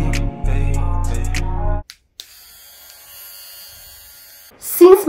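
An electric lint remover buzzes loudly and steadily up close for almost two seconds, then switches off, leaving a quiet room hum before a short sound near the end.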